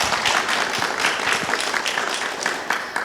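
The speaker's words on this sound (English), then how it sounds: "Bit of a round of applause for them" Steady applause from an audience greeting a panel of women motorsports engineers, dense clapping holding at an even level throughout with no break.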